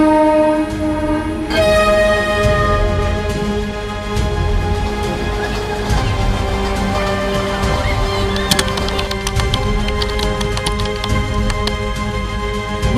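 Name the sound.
trains passing through Hazrat Nizamuddin railway station, Delhi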